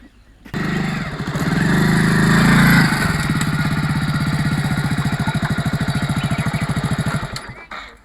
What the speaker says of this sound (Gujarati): બાઈક આવી ગયું એવું લાગે છે